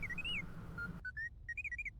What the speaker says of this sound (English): That's how I'm interpreting the beeps and boops.